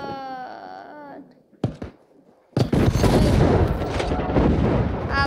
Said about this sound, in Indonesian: Apa tuh yang meledak-meledak? Dari tadi ada meledak.